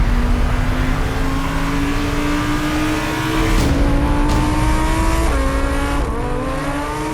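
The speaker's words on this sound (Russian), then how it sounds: "Потому что вы послушайте этот звук мотора." Lamborghini engine revving loudly and close, its pitch climbing steadily through the gears with brief dips at each shift, alone without voices.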